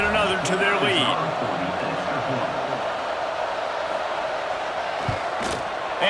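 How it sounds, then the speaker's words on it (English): A football stadium crowd roars and buzzes loudly after a score, a dense wall of cheering voices filling the whole stretch, with a commentator speaking over it early on. "this crowd is buzzing after that last score"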